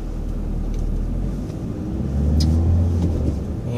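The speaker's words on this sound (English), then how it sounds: "how easy it is to drive, how quiet this vehicle really is" Steady low engine rumble and road noise inside a 2013 Volkswagen Jetta Sportwagon TDI with a six-speed manual, driving through Warrenville, Illinois; a subdued cabin drone that swells slightly partway through, with no talking.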